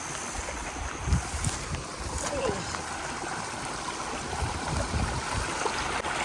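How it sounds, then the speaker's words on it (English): Steady rushing of heavy rainwater flowing and splashing into a pond, continuous and fairly close, with a faint voice now and then underneath. "That is the water running into our pond."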